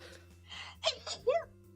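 A short, quiet sneeze from a person, a quick breathy burst after a brief intake, close to the microphone over faint steady background hum.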